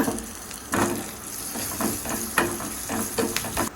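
Oil sizzles and crackles steadily, with several bursts of louder spitting as shallots and curry leaves are stirred in the hot pan.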